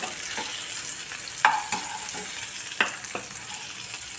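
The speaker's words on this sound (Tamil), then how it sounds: "அங்கே நல்லா கொஞ்சம் வதங்கிடுச்சு." Green turkey berries stir-fry in a pan with a constant sizzle, punctuated by several sharp scrapes and clinks of a spoon stirring against the metal, close and fairly loud with no talking.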